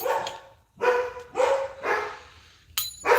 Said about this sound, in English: Let me see what these dogs are doing.